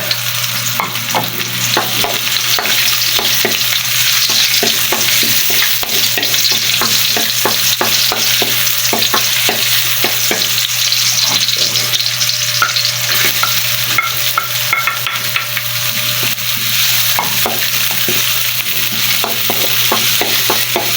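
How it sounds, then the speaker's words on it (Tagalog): Onion, garlic and ginger sautéing in a pan on an electric stove, a steady loud sizzle with repeated scraping stirs throughout, no talking. "gigisa na natin ang ating mga sangkap, sibuyas, bawang, luya"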